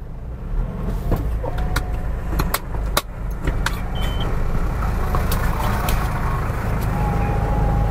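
A second-generation Ford Everest with an automatic gearbox pulls away, its engine hum building steadily from close inside the cabin, with a few sharp clicks and knocks early on and no talk.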